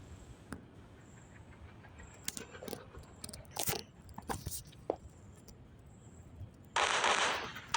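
In the open-world driving game Indian Theft Auto, a sticky bomb goes off with a loud, roaring blast near the end. Before it, scattered sharp clicks and pops sound over a quiet background.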